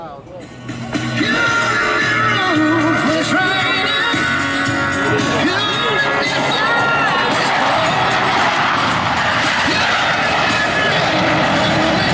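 Blue Angels jets in carrier landing configuration approach during an air show at Naval Air Station Joint Reserve Base New Orleans in Belle Chasse, a loud sustained jet roar building over a cheering crowd with an announcer talking.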